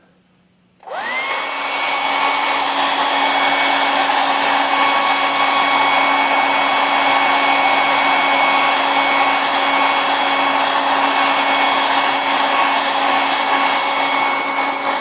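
A hair dryer switches on after a brief quiet moment and then blows steadily, a loud, close, unbroken whooshing roar with a constant whine as it dries paint.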